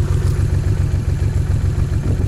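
A Honda VTX1800 motorcycle engine idling while warming up, a steady close low rumble with an even pulsing beat throughout.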